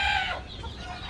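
A hen clucks close by on a rural farm, a short loud burst of clucking calls that fades into quieter barnyard background.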